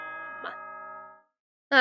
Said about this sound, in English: Nice, bells.